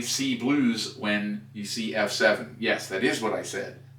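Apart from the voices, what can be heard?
No everyday noises stand out.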